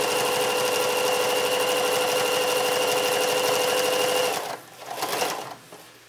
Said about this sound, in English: And then you just sew along.